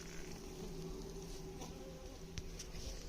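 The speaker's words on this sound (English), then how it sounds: "So I put the swarm in there yesterday. You can hear them in there." A faint, steady hum of a newly hived honeybee swarm buzzing together inside the hive, a continuous low drone with occasional small clicks and taps.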